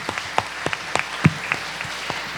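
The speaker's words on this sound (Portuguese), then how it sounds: "Você pode aplaudir a Ele com toda a alegria" A church congregation at a celebration service clapping, with scattered, irregular claps that stand out one by one against a quiet background rather than a full ovation.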